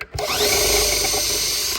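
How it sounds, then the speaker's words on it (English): A power drill whirs steadily at high speed for under two seconds, close by, pre-drilling screw holes for tabletop fasteners, starting and stopping abruptly with no talking. "pre-drill those"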